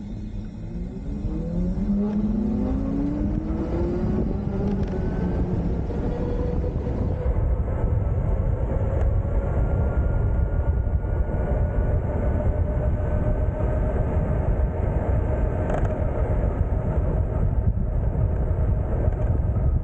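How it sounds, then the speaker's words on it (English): A motorcycle pulls away with a rising electric whine that climbs in pitch, then holds a steady hum over rumbling road and wind noise, loud and close. "with a battery and electric motor instead of a gas engine, you'll find the motorcycle to be much quieter"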